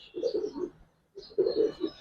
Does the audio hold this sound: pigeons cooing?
yes